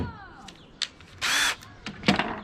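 A power drill boring a pilot hole during a razor clam gun build, with short intermittent whirring bursts and one longer sustained run in the middle, fairly quiet and close.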